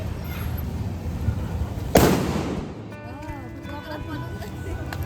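A sudden sharp firecracker bang at Diwali with a brief crackling tail, while people talk and call out nearby.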